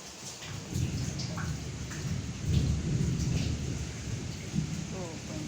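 Heavy rain pours steadily on a leaking house during a flood, a dense close hiss with low rumbling swells like thunder throughout.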